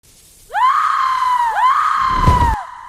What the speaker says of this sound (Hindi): फिर जोर से चीख मारी